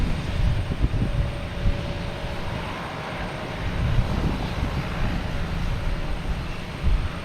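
A Lufthansa airliner rumbles at Boston Logan Airport, a steady, fairly distant roar of jet engines with low, wind-buffeted noise and no talking.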